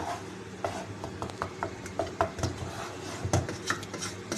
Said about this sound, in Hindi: सारी चीज़ें अच्छी तरह मिक्स करते रहें साथ के साथ,